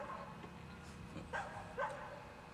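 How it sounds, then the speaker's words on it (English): Dogs barking outdoors on a cold dark early morning, a few faint distant yips and barks over a low background hum. "Maybe the dogs can settle down a little bit now."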